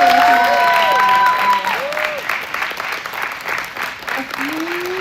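Steady applause from a crowd at a brewers' national finals event, with some voices over the top, clapping continuing throughout at a fairly loud level.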